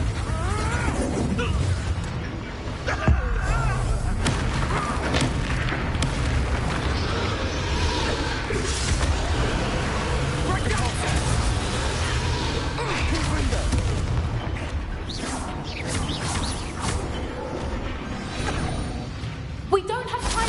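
Confringo blasting spells explode repeatedly in Hogwarts Legacy combat, making a loud, continuous clamor of booms, bursts and impacts throughout, with speech mixed in.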